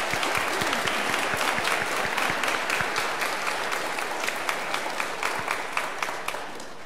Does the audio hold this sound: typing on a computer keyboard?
no